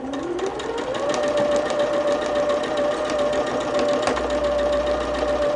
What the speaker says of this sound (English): So this is going to be the final seam on this. We're sewing the 2 halves together.